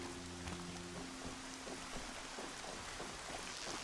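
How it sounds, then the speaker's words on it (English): Steady patter of rain falling on surfaces in the video game Horizon Zero Dawn, a continuous even hiss with scattered drops, accompanied early on by a low sustained tone. "And it's raining."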